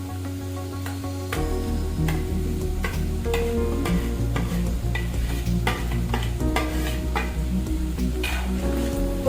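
Semolina for upma is roasted and stirred in a pan with a soft, continuous scraping and light sizzle, heard under steady background music throughout.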